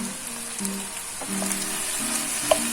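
Onion sizzles and fries steadily in a hot pan, with pepper tossed in and a few stirring scrapes and clinks over the continuous crackle, close and moderately loud.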